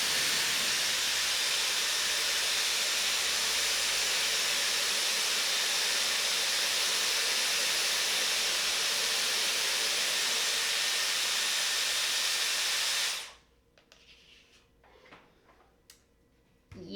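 A Dyson Airwrap hair styler blows a loud, steady, broadband rush of air while curling hair, then cuts off abruptly, leaving quiet clicks and handling noises afterward.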